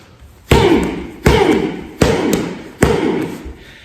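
Four heavy hammer-fist strikes land in pocket stick training, each a loud, close thud followed by a short ringing decay, spaced evenly about three-quarters of a second apart.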